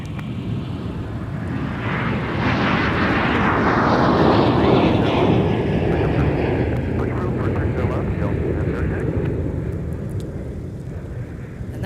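Delta airliner at Minneapolis–St. Paul airport on a flight to Nashville, a loud, sustained roar of jet engines that swells and then slowly fades.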